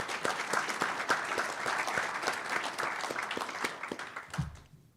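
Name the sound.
audience applause at a banquet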